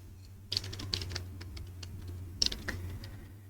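Keystrokes on a computer keyboard while entering CSS code, in two quick clusters of crisp, close clicks around a short pause, over a steady low hum.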